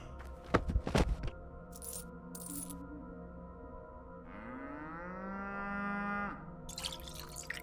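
Cow mooing in the video game Pathologic 2: a single long, loud moo rising in pitch and holding for about two seconds, preceded by clinking, dripping game effects and followed by more clatter.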